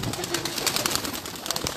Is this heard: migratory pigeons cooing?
yes